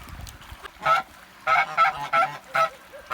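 Kholmogory domestic geese honking in a quick series of loud, nasal calls, five or six bursts close by with brief pauses between them.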